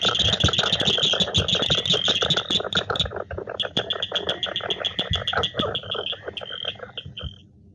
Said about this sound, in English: with the plains frog there, it's still kind of that rubbery type noise